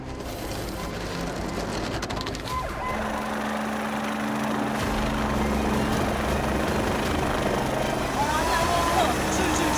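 A medical transport helicopter arrives at a helipad, its rotor and engine a loud, steady roar with rhythmic chopping that fills the whole stretch, a siren-like tone faintly mixed in.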